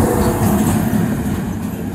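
A train passes on a railway track close by, a continuous loud rumble with faint rhythmic clatter and no pauses.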